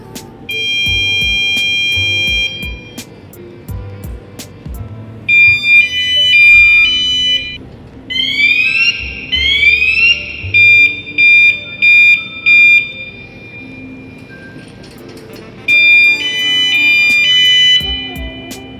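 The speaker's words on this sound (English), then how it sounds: "Alarm is loud. It is 110 or 120 decibels." A Ravemen bike tail light's anti-theft alarm blares at around 110 to 120 decibels in bursts of piercing, shifting tones, with stutters and pauses between repeated siren-like patterns, close and harsh.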